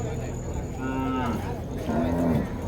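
Cattle moo twice, deep and drawn out, at a cattle and buffalo market, the calls carrying over a steady bed of crowd and outdoor background noise.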